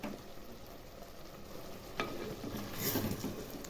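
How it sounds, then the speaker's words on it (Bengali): Champaran handi mutton being stirred slowly in a pot: a steady low sizzle and bubbling with a scrape near the middle and some louder stirring toward the end, close, with no talking. "আস্তে আস্তে করে নাড়াচাড়া করতে হবে"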